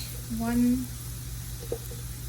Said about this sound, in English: Okay, I'm just gonna stir this